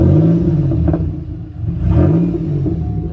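A supercharged 3800 car engine revs roughly, with a heavy, uneven low rumble that climbs in two pushes on the gas and then settles back. It is loud and close, with no talk over it.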